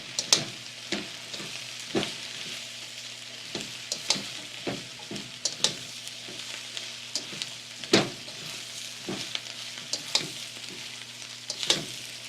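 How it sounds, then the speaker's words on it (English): Sliced mushrooms sizzle and fry in a wok for a vegan mushroom stroganoff, with a constant hiss broken by repeated sharp clicks and scrapes as the pieces are stirred around, close up and with no talk. "I am going to add my sliced mushrooms. And mix them around in the wok."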